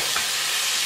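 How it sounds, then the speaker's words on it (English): Fresh garlic cooking in a pot on medium low heat, a brief, steady close sizzle with no voices. "I'm actually going to add some of that fresh garlic I got. And then I'm just going to let that cook on medium low."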